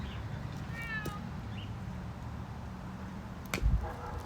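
A house cat meows a few short, rising calls early on, fairly near and not very loud, over a steady background hum, followed later by a brief knock or clatter.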